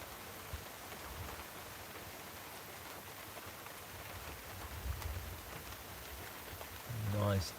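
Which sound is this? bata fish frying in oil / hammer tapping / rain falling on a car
rain falling on a car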